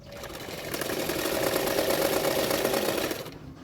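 A sewing machine runs steadily for a few seconds, stitching blouse pieces together, with a close, continuous whirring hum and no talking.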